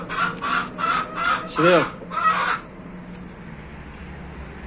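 A small bantam-type hen clucks in a short run of soft, repeated calls near the listener, with a person speaking briefly over them before the sounds fade to quiet background.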